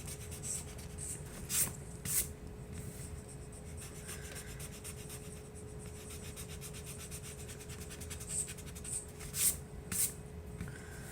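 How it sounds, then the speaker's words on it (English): Pencil lines being erased on paper with firm pressure while drawing a face, a steady close scrubbing rasp with a few sharper squeaky strokes near the start and end, no voices. "So it's a little bit more difficult for me to erase these lines."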